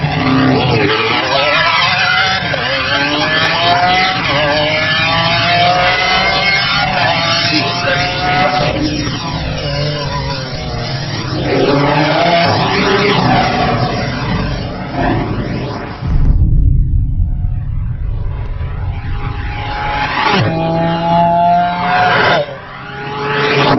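A Lamborghini Aventador SV LP750-4 is driven hard on a mountain road. Its engine roars loudly and continuously up close, its pitch sweeping up and down through repeated revs and shifts, with one brief sharp drop before it surges again.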